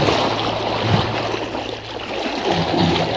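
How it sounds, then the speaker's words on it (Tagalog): Strong river current flowing steadily where shrimp and carp are caught, a continuous broad rushing of water close by with no talk over it. "lakas pa ng agos"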